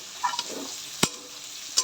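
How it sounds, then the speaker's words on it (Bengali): Finely chopped vegetables frying in hot ghee, a steady close sizzle broken by a few sharp spatula taps and stirring scrapes against the pan, with no voices. "এইটা ভেজে রাখি, ওটা ঘিয়ের মধ্যে ভেজে।"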